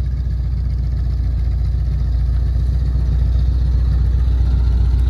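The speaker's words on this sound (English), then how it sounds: "We need to get the engine on this one." A vehicle engine idles steadily at an auction, a loud, continuous low rumble holding even throughout with no voices over it.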